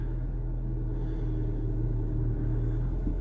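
Car engine idling steadily with a low, even rumble and slight hum, close by and uninterrupted.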